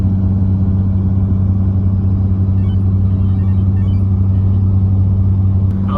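Steady low engine drone and road rumble inside a Ford Thunderbird with a 2.73 rear gear and overdrive, cruising at interstate speed under 2,000 rpm, continuous and loud throughout with no talk.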